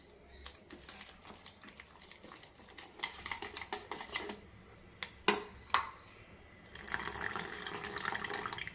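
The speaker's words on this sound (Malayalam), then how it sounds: "ഏകദേശം അരക്കപ്പ് വെള്ളം കൂടി ഒഴിച്ചിട്ടുണ്ട്." Water being poured into a milk-and-flour batter for elanchi, a soft splashing trickle near the bowl with a few clinks and stirring knocks, ending in a steadier pour.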